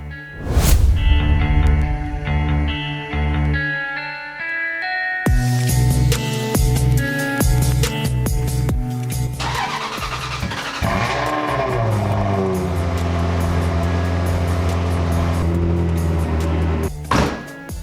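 An Alfa Romeo car engine is started cold and driven, loud revving and changing engine tones with a thunk partway through, running close and continuous throughout.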